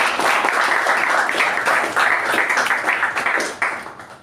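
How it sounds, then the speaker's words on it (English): A small group claps steadily for a few seconds, fairly close and loud, gradually thinning out toward the end. "Let's have a round of applause."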